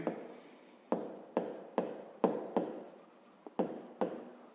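Pen writing out a math solution on paper, a series of short scratchy strokes in irregular bursts, close and quiet with no talk.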